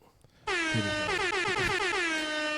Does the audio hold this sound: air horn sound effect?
yes